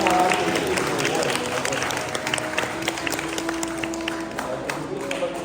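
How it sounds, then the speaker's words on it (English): An audience claps warmly at an Eagle Scout Court of Honor ceremony, steady applause from a room full of people lasting several seconds, with a faint voice underneath. "let's give him a wonderful round of applause as well"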